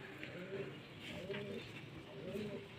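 Pigeon cooing, fancy beauty pigeon, in three rounded, repeated coo phrases at close range, steady over a continuous low background hum.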